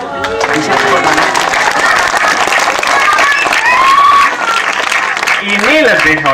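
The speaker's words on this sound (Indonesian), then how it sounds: "Bisa tepuk tangan" A crowd at the Amandari 17th anniversary Bondres Dwimekar performance applauds, steady clapping and some cheering mixed with voices and laughter throughout.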